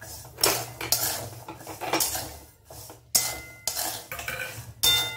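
Peanuts being added to roasted salt in a pan and stirred: clattering, scraping spoon-on-metal strokes in irregular bursts with gritty rattling between them, close and fairly loud, no talk.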